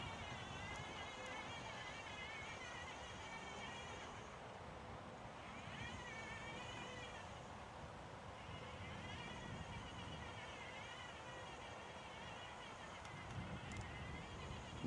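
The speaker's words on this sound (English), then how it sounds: "You see how windy it is? It's nuts out here right now." Strong wind roars outdoors and buffets the microphone in a steady, dense rush with slight surges, while a voice faintly speaks underneath at times.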